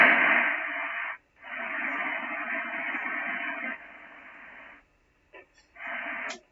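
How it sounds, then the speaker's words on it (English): Radio static hisses across the band in a broad, steady wash, close and moderate, with a brief gap, a quieter stretch, and short crackles before it returns. "there is quite a bit of noise on the band"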